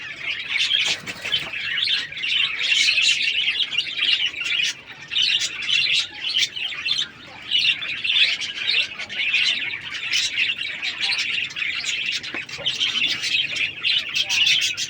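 Healthy running king quail birds kept for sale call in a busy, continuous chorus of high chirps and squeaks, close by and steady for the whole stretch, with a possible voice faint underneath.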